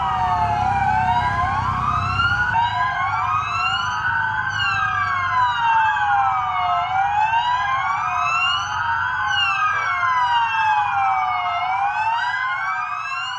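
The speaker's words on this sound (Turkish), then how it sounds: "Sirenler çalarak İzmir Adliyesi çevresinde konvoy yaptı." Several police sirens of a convoy circling the İzmir courthouse wail and yelp together, overlapping continuously and loudly, with a low vehicle rumble at the start.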